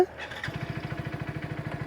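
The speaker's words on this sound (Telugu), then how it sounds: "సో చూసారా ఇంజిన్ అయితే లైఫ్లోకి వచ్చి" A Hero Splendor+ XTEC 2.0 motorcycle engine (2024) cranks and catches, then settles into a steady, rapid putter of idling, close by.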